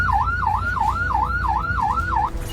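An ambulance siren wails on the road in a fast, regular up-and-down sweep of about seven cycles, loud and close, then cuts off near the end with traffic rumble underneath.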